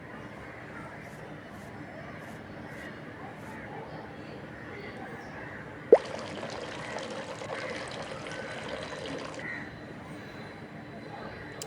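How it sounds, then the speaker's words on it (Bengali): In the Meena Raju video game, water pours steadily to fill a bucket, a continuous trickling stream under talk, with a sharp click midway where the pour grows brighter and fuller. "আবারও পানি ভর্তি করতেছে।"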